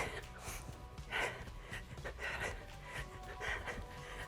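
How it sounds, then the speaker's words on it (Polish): Rapid, rhythmic panting breaths at the close of a home workout, repeating in bursts roughly every half second, close and moderately loud with no talk over them. "Oddech przyspieszony, co?"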